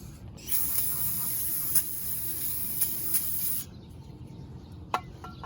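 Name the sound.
spraying onto brake caliper parts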